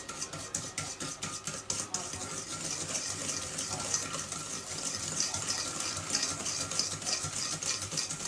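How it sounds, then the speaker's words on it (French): A sugar mixture for a pineapple upside-down cake is stirred vigorously in a bowl, producing a steady scraping, swishing rhythm that stays close and continuous. "donc je continue à bien mélanger."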